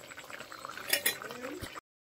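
Close bubbling and gurgling of mutton curry boiling in a clay pot on a clay stove, with faint clinks, ending abruptly.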